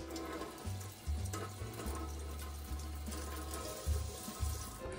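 Water pours from a tap into a jar of sprout seeds to soak them, a steady close filling rush with a low hum that swells and dips.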